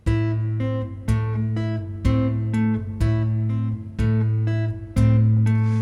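Chapman Stick two-hand independence exercise, the left hand sounding every other note of the right: repeated plucked and tapped tones with a steady low bass note, played slowly in an even, evenly accented pattern, close and clear with no talking.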